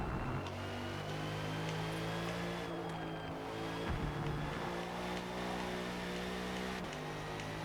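A GT race car engine in the Forza Motorsport racing game drones steadily and loudly throughout, with layered engine harmonics that rise and dip slightly as the car is driven, and no voices.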